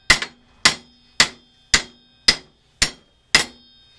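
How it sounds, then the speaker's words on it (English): Seven sharp metallic hammer blows on a bolt, driving a bearing out of an idler pulley, land at a steady, even pace, each ringing briefly before the next strike, loud and close. "I'm gonna use my bolt again, and then I'm gonna hammer that out."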